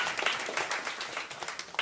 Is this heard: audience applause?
yes